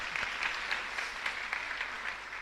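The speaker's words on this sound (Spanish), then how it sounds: "Fuerte aplauso para usted entonces." Parishioners clap during a live Catholic Mass, a fairly faint, even patter of applause from a small gathering that carries on steadily for a couple of seconds.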